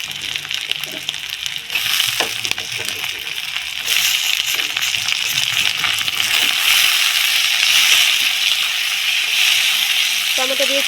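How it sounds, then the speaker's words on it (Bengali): Tomatoes fry in a pan with fried ingredients for a homestyle Bengali chicken curry (chicken kosha), giving a steady broadband sizzle that grows slightly louder and carries on throughout, with a few scraping stirs and no talking. "টমেটো দিয়ে কিছুক্ষণ ভেজে নেব।"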